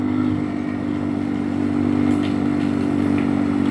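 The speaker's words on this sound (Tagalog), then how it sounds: "itong dirt bike natin" A dirt bike motorcycle rides on a muddy road during a typhoon, its engine holding a steady loud drone close by with a constant low rumble and faint rattles, no talk over it.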